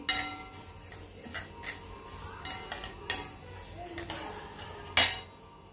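A metal utensil scrapes and clinks against a wok while sesame seeds are dry-roasted, in an irregular stirring rhythm with a few sharper knocks, fairly quiet and close.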